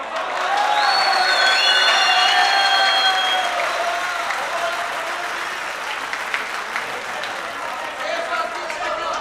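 A live-performance audience on a televised singing competition breaks into loud, sustained applause with cheering and whistles, the clapping slowly easing off over several seconds.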